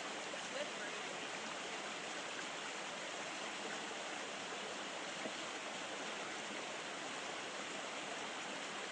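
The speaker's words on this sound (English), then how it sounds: "Taking the third crossing of Big Branch Creek." Creek water of Big Branch Creek flows over a hiking-trail crossing in the New River Gorge, making a steady, close, continuous rushing hiss that holds evenly throughout with no other sounds.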